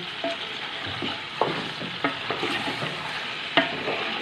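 Ginger garlic paste sizzles and fries in a hot pan for a biryani, a steady crackling hiss broken by several sharp scraping stir strokes.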